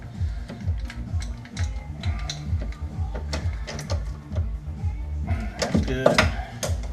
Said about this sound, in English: Let me just make sure that it's all tightened down.